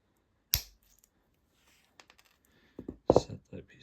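Wire cutters snip through stainless spinnerbait wire on a workbench with one sharp, close click, followed by a few faint taps and small handling clicks.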